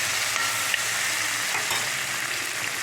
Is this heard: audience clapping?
no